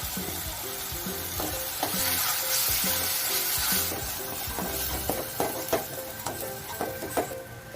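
Curd stirred into a hot pan for tricolour rice, producing a close, busy sizzle broken by rhythmic scraping spoon strokes that grow more distinct toward the end, with no voices.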